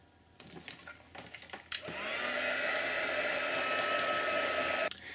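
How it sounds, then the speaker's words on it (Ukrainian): A hair dryer switches on with a click and blows with a steady, loud whir for a few seconds drying stamped ink before cutting off; faint handling noises precede it. "Зараз ми підсушимо їх феном і продовжимо експериментувати."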